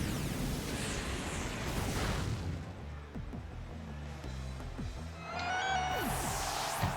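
Flare Blitz attack effect from a Pokémon VGC battle game, a roaring fiery rush with booming impacts, a dip in the middle, then a bright rising burst of ringing tones near the end, with no voices.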